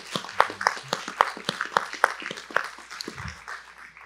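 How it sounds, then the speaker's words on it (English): Scattered applause from a modest audience honoring a plant manager at a DTE Energy Trenton Channel plant gathering; the claps are fairly sparse and uneven, moderately near, and trail off toward the end. "Let's give her a round of applause."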